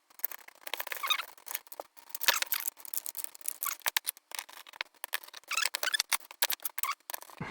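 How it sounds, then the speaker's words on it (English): Small dry clicks and ticks come from a screwdriver turning JIS screws while a JVC KY-15 video camera is reassembled, quiet and close, in irregular bursts. "JIS screws lock in really good"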